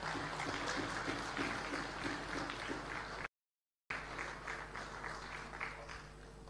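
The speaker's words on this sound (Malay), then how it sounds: "kita berikan juga tepukan gemuruh kepada ibu kita, Puan Sri Nuraini." Delegates at a political party general assembly applaud, a sustained rumble of many hands clapping heard faintly and somewhat distant, with a short gap of silence midway before the clapping resumes.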